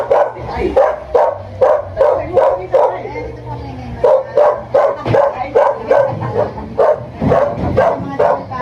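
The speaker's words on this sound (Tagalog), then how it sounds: "Daming aso." Several dogs bark repeatedly in a rapid, overlapping chorus, loud and close, with a faint low drone beneath.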